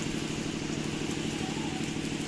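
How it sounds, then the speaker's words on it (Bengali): Steady rain falling on a gray rainy day, a dense, even hiss throughout with a low droning hum underneath. "মাঝে মাঝে একটু থামছে বৃষ্টি আবার শুরু হয়ে যাচ্ছে"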